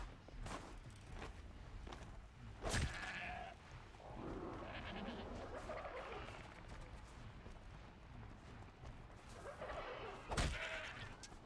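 Goat bleats break out in a few loud, wavering cries over steady Horizon Zero Dawn game ambience and scattered movement noises.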